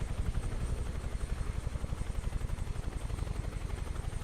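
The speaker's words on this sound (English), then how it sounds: "This helicopter is brilliant." A UH-1H Huey helicopter in Microsoft Flight Simulator drones with a steady, rapid rotor thump over engine whine, continuous and moderately loud, with no talking.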